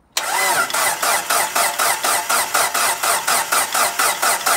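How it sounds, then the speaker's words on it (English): A rebuilt 600+ hp Mitsubishi Evo 5 engine cranks on its first start attempt, the starter churning loudly in a steady pulsing rhythm for several seconds without catching, close up and with no talking. "we're going to get this thing started up."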